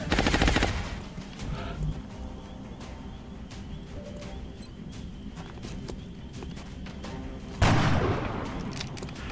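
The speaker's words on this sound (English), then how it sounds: "Taking heavy fire." Bursts of rapid gunfire and scattered shots in XCOM Enemy Within (Long War), a loud volley at the start and another near the end, with sparser clicks and thuds between.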